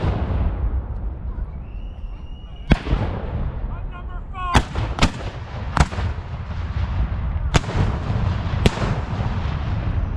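Confederate cannons fire at a Civil War reenactment in Decatur, Alabama: several sharp, loud booms rip out at irregular intervals, each trailing off with a rolling echo over steady outdoor background noise.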